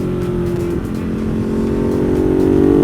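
Ducati Monster 1200 motorcycle fitted with new rear sets, ridden on a road with some gravel; a loud, steady engine drone holds close throughout and rises slightly in pitch toward the end as the bike accelerates.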